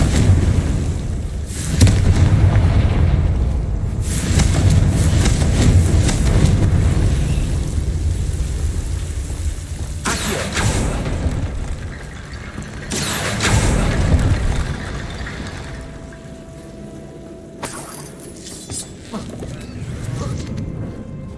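Repeated Confringo fire spells blasting in Hogwarts Legacy, with heavy booming bursts and rumbling explosions rising and falling over a busy game soundscape, loudest in several separate surges.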